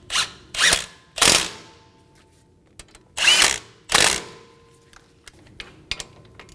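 Close ratchet on the front brake caliper bolts of a Mazda 3, several loud bursts of rapid pawl clicking separated by pauses, followed by a few lighter taps and clicks, no voices.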